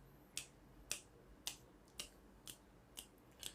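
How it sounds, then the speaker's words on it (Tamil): Seven crisp finger snaps ring out at an even pace of about two per second, sharp and close against a quiet background. "சொடக்கு போட்டது போதும்"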